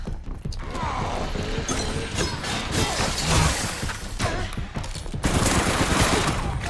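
Gunfire in the online shooter RE: Reverse rattles in rapid, continuous bursts mixed with mechanical clacks and clicks, loud and fairly close, with a stronger burst near the end.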